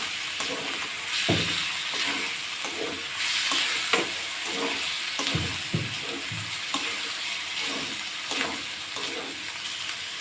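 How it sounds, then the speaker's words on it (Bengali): Small river fish frying in a pan, a steady close sizzle with intermittent soft scrapes and clatters from gentle stirring, no talk. "মাছটা দিয়ে একটু বেশি নাড়াবো না, হালকা নাড়াইয়ে"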